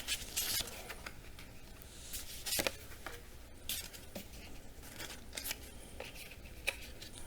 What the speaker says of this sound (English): these are going to be shuffled as well